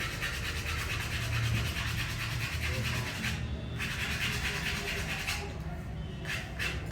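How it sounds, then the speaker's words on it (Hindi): A rusty iron nail rubbed clean with steady, continuous abrasive scraping that runs loud and close for several seconds with only brief dips. "तो मैं थोड़ा सा इसको पहले घिस लेती हूँ जिससे साफ हो जाए।"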